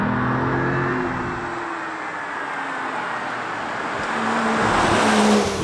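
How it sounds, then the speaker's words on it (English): A BMW M2 drives a winding road, its engine a loud continuous roar heard from inside the car with tire and wind noise, swelling as it accelerates toward the end. "the engine is superb, it packs a lot of punch, it sounds great"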